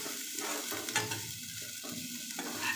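Onion fries in a pan with a steady, fairly close hiss and crackle that holds continuously, with faint stirring movement and no talking.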